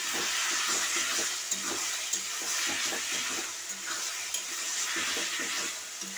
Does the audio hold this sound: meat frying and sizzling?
yes